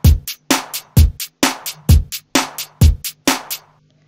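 A programmed drum pattern from FL Studio at 130 BPM, with punchy kicks and snappy hits on a regular grid, alternating with short bright ticks. It plays loud and dry, alone, and stops cleanly after about 3.5 seconds.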